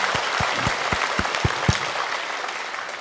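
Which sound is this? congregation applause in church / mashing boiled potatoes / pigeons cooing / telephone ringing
congregation applause in church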